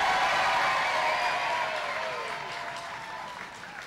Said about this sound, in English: Clap, stamp your feet, whatever you want, but a really nice loud cheer.